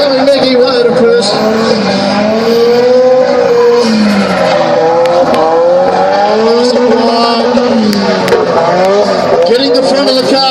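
Drift car at Archerfield sliding at great angle with sustained tire squeal and a revving engine, loud and continuous, under an announcer's running commentary.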